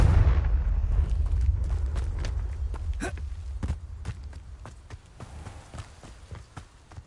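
A Confringo explosive spell blast from Hogwarts Legacy opens with a heavy rumbling boom that fades slowly, while scattered debris clicks and cracks pop across the decaying tail.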